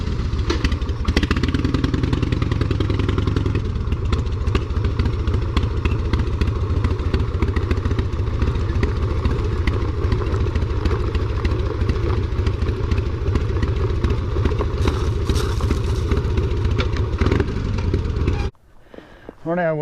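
A Harley-Davidson motorcycle engine idles with a loud, steady lumpy throb close by, mixed with wind buffeting, cutting off abruptly near the end; someone talks over it.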